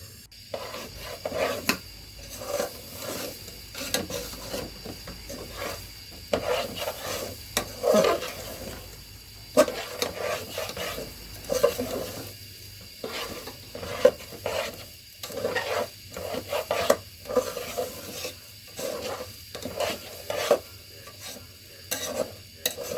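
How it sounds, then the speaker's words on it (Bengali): Khichdi ingredients fried in a pan with a spoon stirring them over and over: rhythmic scraping strokes over a low sizzle, close and continuous, with no voices. "এখন ভালো করে নেড়ে চেড়ে ভেজে নিতে হবে।"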